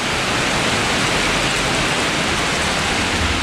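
Steady rain falls outside a garage holding a tool box, a dense, even hiss that stays loud and continuous from start to finish with no voices over it.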